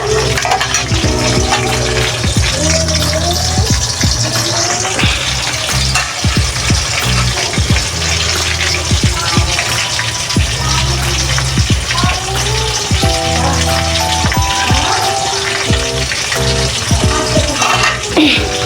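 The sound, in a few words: hilsa fish pieces frying in oil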